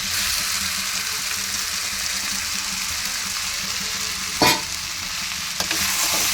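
Potatoes and prawns sautéing in a pan for a jackfruit curry, making a loud, steady sizzle with a sharp spatula scrape near the end and a faint clink just after, without talk.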